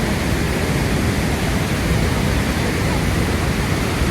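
The roar of Niagara Falls from the passage behind the falls: a loud, dense, unbroken rush of water filling everything, steady for the whole stretch.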